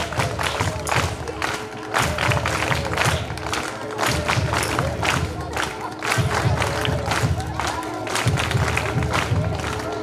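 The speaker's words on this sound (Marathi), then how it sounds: "आपण जोरदार टाळ्या वाजवून या सत्काराला दाद द्यायची आहे." An audience at a retirement felicitation ceremony claps loudly and continuously, a dense wash of applause from a crowd that swells in waves with no pauses.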